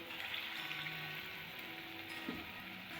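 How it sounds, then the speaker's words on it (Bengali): Banana and coconut fritters fry in oil with a soft, continuous bubbling sizzle, fairly quiet and even throughout, with a faint clink near the end and no talk. "তেলের বড়াগুলো আমার লাল লাল করে ভাজা হয়ে গেছে"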